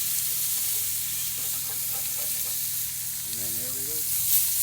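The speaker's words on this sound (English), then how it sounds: "So we're gonna flip the steaks, guys" Steaks and onions sizzle loudly and steadily on a grill, a close, continuous frying hiss, with a short spoken phrase near the end.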